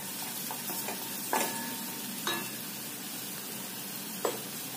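Cumin seeds sizzle in hot oil with a steady, close hiss, broken by a few short crackles and stirring clicks, and no talk over it.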